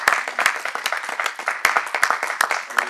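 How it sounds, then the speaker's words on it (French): Church congregation clapping and cheering to acclaim the Lord, a dense, uneven burst of many hands with sharp individual claps standing out, fairly close and steady throughout. "Nous pouvons acclamer pour le Seigneur"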